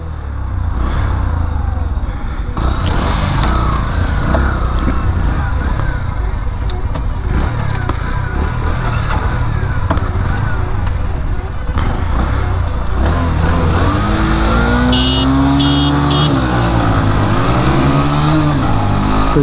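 TVS Sport and Bajaj Platina commuter motorcycles racing side by side at dusk, steady loud engine drone throughout with rising revs and a pitch sweep near the end as the bikes accelerate past.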